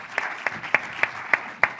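Six sparse, separate claps ring out at a steady spacing in a conference hall during a Madrid congress debate panel, a thin scattering of hands rather than full applause.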